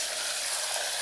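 Garlic and onion sauté in hot oil with cumin and dried red chillies in a pressure cooker, giving a steady, close, bright sizzling hiss with no voices.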